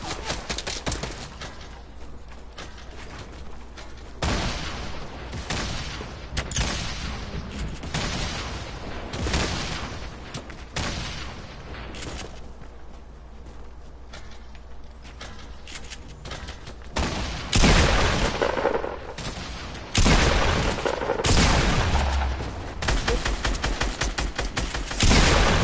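Fortnite gunfire crackles in repeated bursts of rapid shots, loud and close, with heavier volleys and louder clusters building toward the end.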